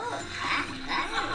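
Tapping Halloween pumpkins in a Talking Tom mobile game sets off playful, warbling cartoon tones, whiny and wavering like a small dog's whimper, layered over busy background game sound.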